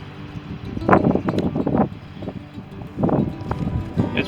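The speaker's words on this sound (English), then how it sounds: "It's pretty windy out, as you guys have seen." Gusty outdoor wind buffets the microphone beside a Royal Gourmet smoker heated to about 500 degrees, rising in loud rumbling bursts with brief lulls between them, and no one speaks.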